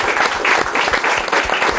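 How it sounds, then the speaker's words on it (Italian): Volleyball fans in an arena for a SuperLega match applaud in a loud, dense burst of clapping from a large crowd, continuous throughout with faint voices mixed in. "Parti tu con l'applauso e gli altri ti vengono dietro"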